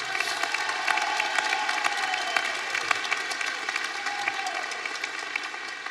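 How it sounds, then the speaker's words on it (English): Sustained applause from a large crowd at a college commencement ceremony, steady and fairly loud throughout, with no voices standing out. "So how about another round of applause for all the graduates?"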